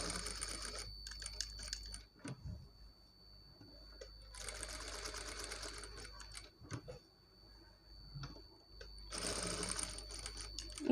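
A sewing machine stitches a model hand design on cloth in colored thread: steady whirring runs in bursts of about two seconds, broken by short pauses with faint handling noises, close and fairly quiet.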